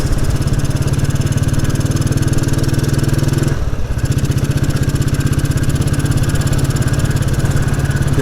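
A Royal Enfield Bullet 350 motorcycle engine thumps steadily while riding on country roads, a loud, close, even single-cylinder throb with a brief dip in the middle before resuming.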